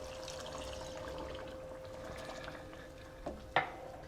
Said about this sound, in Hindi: मैं इसमें तकरीबन ये वाला 1 कप पानी ऐड करूँगी